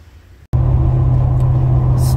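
A 1996 Impala SS with a custom stainless steel dual exhaust and Flowmaster mufflers fires up loudly after a brief quiet moment, then holds a deep, steady rumbling idle nearby.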